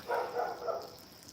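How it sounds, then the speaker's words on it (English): Pet dogs barking outdoors on a sunny day in Florida, a short run of about three moderately loud, somewhat distant barks heard alone without talk. "I think my dogs are barking for me to feed them."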